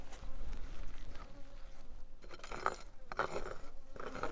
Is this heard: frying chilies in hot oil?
no